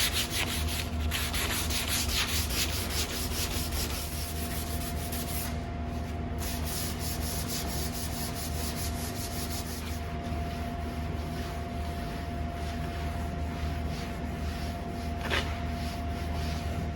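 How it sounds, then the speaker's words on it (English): Hand sanding across the painted body of a 1980 Chevrolet K10 Squarebody truck, a close, continuous rasping scrub with steady rhythm and short breaks, over a constant low mechanical hum. "just a bit of sanding and wiping it clean"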